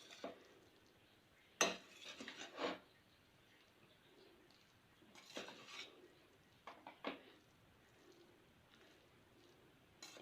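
Cooked kuska rice is stirred in a metal pot, a ladle scraping and clinking against the sides in several close, uneven bursts with quiet pauses in between.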